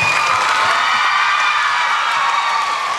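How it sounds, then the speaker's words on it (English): School students at an assembly cheer, whoop and clap for their principal, a dense, loud crowd roar filling the room without a break. "everyone give a big round of applause to your principal for inviting us here and getting you guys out of class today"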